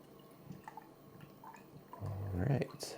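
Beer poured from a can into a glass, a wet gurgling pour that swells loud near the end, with quieter handling noises before it.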